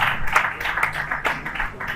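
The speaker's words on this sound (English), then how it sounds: "Let's give him a round of applause once again." Audience applause at a youth entrepreneurship and civic awareness event in Nigeria, a dense wash of many hands clapping steadily and fairly close for a couple of seconds.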